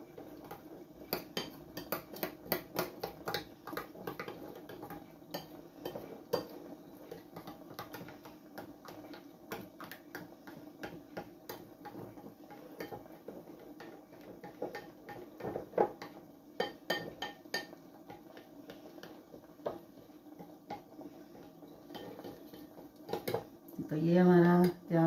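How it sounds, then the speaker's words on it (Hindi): A spoon scrapes and clinks steadily against a bowl while ghee and flour are stirred together, with someone talking over the mixing and a louder clatter near the end. "अच्छे से मिक्स कर लूंगी।"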